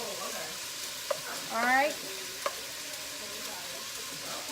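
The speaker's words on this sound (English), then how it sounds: "Just frying this bacon in the pot." Bacon fries in a pot with a constant crackling sizzle close by, broken by a couple of sharp utensil clicks, while a person briefly speaks over it.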